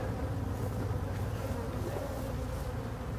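A dense, steady hum of many honeybees buzzing around a freshly split hive, continuous and close throughout.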